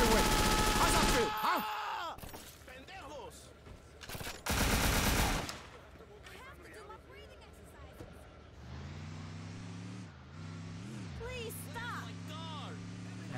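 Automatic gunfire in the video game Scarface: The World Is Yours, loud rapid bursts of machine-gun fire in two sharp volleys, followed by car engine noise and a voice talking.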